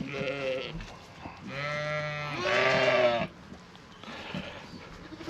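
Farm goats, including does with triplet kids, bleat loudly nearby in several overlapping wavering calls, with rustling and shuffling between cries.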